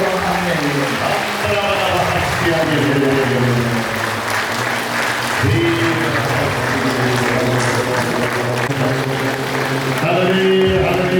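Congregation at a healing service clapping in praise, sustained applause throughout with singing voices and talk layered over it, loud and close.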